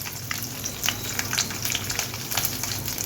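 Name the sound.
onions frying with dried chillies and ginger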